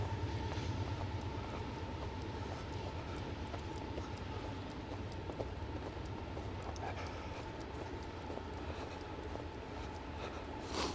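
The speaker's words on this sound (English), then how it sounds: "It's a long train." A long train rolls past a small-town park in Milton, Canada, a steady continuous rumble with faint rail clatter and a sustained tone, holding even loudness throughout with no talk.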